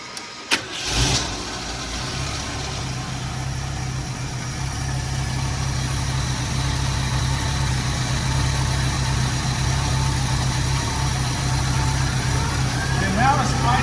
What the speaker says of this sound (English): And now it's idling about 380 RPM.